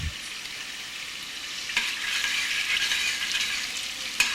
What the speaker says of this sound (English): Everything, once again, is being stirred constantly.